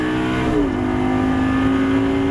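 A Lamborghini engine on the Issoire track in 2011 climbs in pitch as it accelerates, then holds a steady, loud, close-up drone at high revs with no voices.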